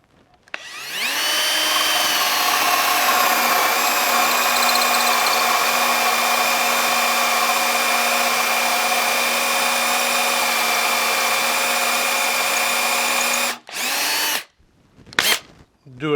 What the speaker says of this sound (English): Now we have our pilot for our hole saw.